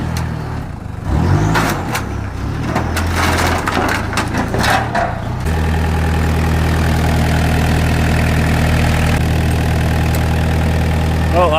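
A long-abandoned MG ZR180 car cranks and catches on a jump start, crackling and clattering for a few seconds before settling into a loud, steady idle that hums on to the end.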